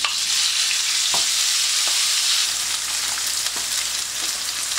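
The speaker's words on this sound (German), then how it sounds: "Dann tue ich das Hackfleisch scharf anbraten." Minced meat fries hard in about two tablespoons of oil in a pan for a pizza topping, giving a loud, constant sizzle with occasional soft clicks of stirring and no voices.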